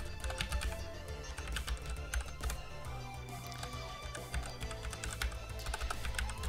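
Rapid keyboard typing during an Unreal Engine 4 game-development session, with dense irregular key clicks running steadily throughout over a low constant hum.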